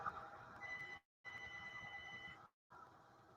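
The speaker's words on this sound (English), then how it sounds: "I just heard an alarm going on." An alarm sounds in a steady, faint electronic tone, broken by two short gaps of silence into three separate stretches.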